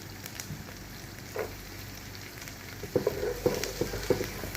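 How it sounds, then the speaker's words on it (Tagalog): Minced garlic sizzles and fries in melted butter in a pan for Filipino sopas, a steady close crackle that swells louder with bursts of stirring toward the end. "Patunaw na ang butter natin, kaya pwede natin ilagay yung ating bawang."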